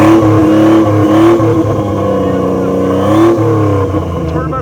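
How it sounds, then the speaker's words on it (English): The turbocharged engine of a Honda Accord converted into a Lamborghini replica revs hard and loud, its rising and falling drone close by, with talk over it. "Turbo conversion sounded so good."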